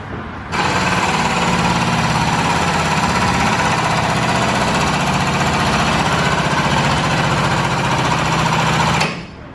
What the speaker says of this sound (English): jack it up to do an adjustment